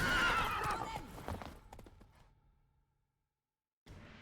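A horse in The Witcher 3 whinnies loudly at the start, and its hoofbeats thud on as the sound fades, followed by a short silence before a soft rustle returns.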